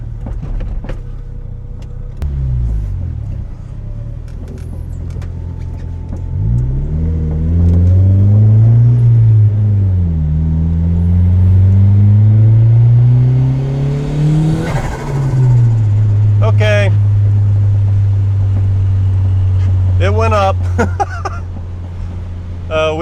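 A turbocharged Honda Civic running boost with no tune accelerates in a low rising engine drone that sweeps up through the revs, peaks, then drops back to a steady hum as the throttle is released, with faint clicks near the end.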